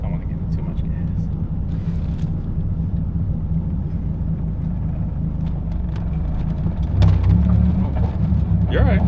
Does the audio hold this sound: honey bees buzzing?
no